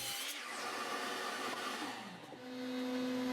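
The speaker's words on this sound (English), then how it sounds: "I clean up one of the ends and then cut each of the 4 legs to length." Miter saw cutting cedar 4x4 table legs to length, a steady loud whine of the spinning blade with a brief dip near the end, then the motor's pitch winding down as the cut finishes.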